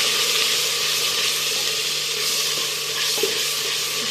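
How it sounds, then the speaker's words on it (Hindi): Ground onion paste with garlic and ginger fries in oil in a clay pot, a steady, close sizzle throughout with a faint stir near the end. "अब इसके अंदर ये जो प्याज हमने पीसी है ये डाल के इसको भूनेंगे और लहसुन अदरक भी साथ ही डाल के भूनेंगे"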